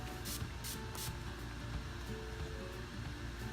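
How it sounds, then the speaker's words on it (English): Three quick, soft spritzes from an Urban Decay makeup setting spray bottle, close by, over a steady low background hum. "I'm just wetting it with my Urban Decay setting spray"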